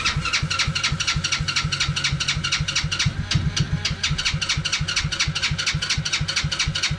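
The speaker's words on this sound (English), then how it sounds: "Try to crank it. That fuel pump's bad. We'll try to crank it." A car engine with a bad fuel pump cranking repeatedly without catching, a loud, fast, even churning of the starter lasting about seven seconds with a brief uneven stumble partway through.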